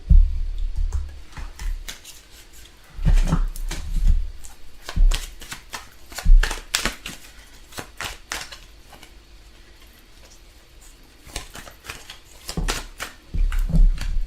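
Tarot cards are shuffled in bursts of quick riffling flicks and soft slaps, loud and close, with quieter pauses between rounds and no talking.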